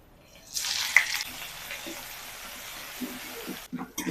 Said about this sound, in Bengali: আদা কাঁচা লঙ্কাটাকে ভেজে নিয়েছি